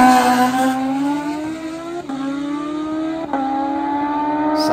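Turbocharged, nitrous-fed street drag motorcycles such as a ZX-14 race side by side, engines screaming loudly with rising pitch as they upshift twice in quick succession.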